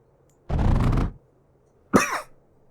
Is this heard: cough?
yes